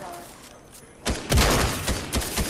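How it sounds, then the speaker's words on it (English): Gunfire in Fortnite, a quiet stretch giving way to a burst of several loud shots in quick succession, then scattered further reports continuing to the end. "Someone shooting."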